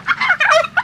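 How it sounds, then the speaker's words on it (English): Turkeys gobble in a quick, loud burst close by, several bubbling calls overlapping with no talk. "you can hear the animals"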